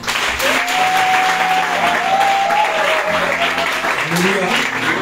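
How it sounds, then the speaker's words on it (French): A church audience claps steadily throughout, with dense applause under a sustained voice or tone at an anniversary celebration. "On acclame pour lui."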